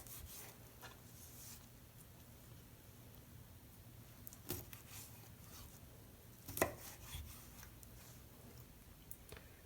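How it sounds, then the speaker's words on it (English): Fresh oranges are quartered and cut into chunks with a knife on a board, giving faint, sparse chopping taps with two sharper cuts standing out in an otherwise quiet kitchen. "And now I am quartering each orange and cutting it into chunks."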